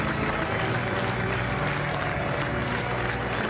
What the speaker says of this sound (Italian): Un lungo applauso, un lunghissimo applauso.